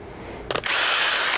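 A power drill bores through a metal plate while installing a Works Connection Pro Launch start device on a dirt bike: a few stuttering bursts, then a loud, steady high-pitched whine for under a second, close up.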